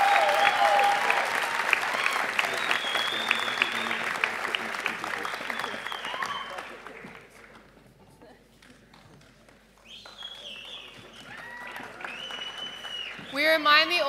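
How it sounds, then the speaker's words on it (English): An audience at a school leaving ceremony claps loudly in sustained applause that fades out after several seconds, followed by quieter sounds and brief bright tones. "We remind the audience to refrain from clapping until the end of the tutor group."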